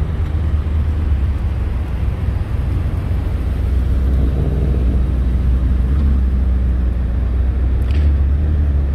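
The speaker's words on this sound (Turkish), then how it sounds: "Birkaç Subaru da geliyor oradan." Steady low rumble of Subaru cars passing nearby at Daikoku parking area in Japan, a continuous road noise with engine drone throughout and no talking.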